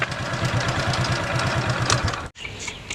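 A motorbike engine idles close by with a steady, low, rapid chugging pulse. The sound cuts out sharply near the end, then the engine hum resumes more quietly.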